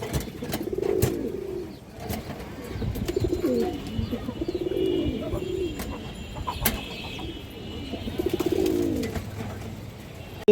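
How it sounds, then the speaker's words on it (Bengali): Pigeons at a breeding farm cooing in repeated soft, throaty phrases, several close calls rising and falling in a regular rhythm over faint background chirps and room noise. "এটাও ফুল ফ্রেশ কবুতর, এই যে দেখেন"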